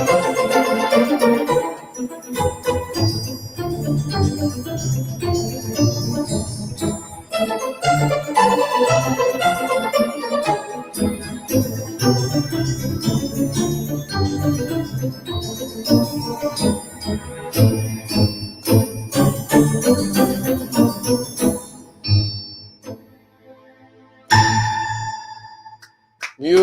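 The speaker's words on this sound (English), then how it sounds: "So that's the sound of the SV2." An SV2 digital piano plays a flowing passage of chords and melody at moderate loudness. The playing stops near the end, leaving a short pause before a final few notes ring out alone.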